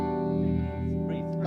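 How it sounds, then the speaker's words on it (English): A guitar tone washes and throbs through a swirling, pulsating Univibe modulation effect, sustained and thick, with a new note struck near the end. "That's a typical Univibe sound."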